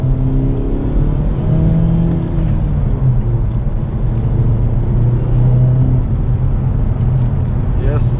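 A 2023 Hyundai Elantra N with a turbo engine and manual clutch pulls steadily through a long first gear, its engine note droning loud and close from inside the cabin as pitch climbs and settles.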